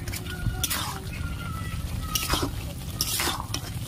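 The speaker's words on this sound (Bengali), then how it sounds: "একটু ভালো করে কষিয়ে নেব।" Chicken being sautéed and stirred in a dry pan with no oil, a spoon scraping in short strokes that come and go over a low steady rumble of cooking.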